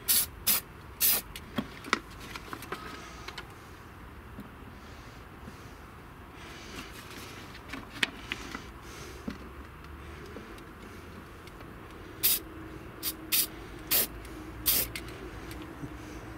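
Short repeated bursts of a spray paint can hissing close by, coming in clusters at the start and again near the end, with a quieter stretch in between.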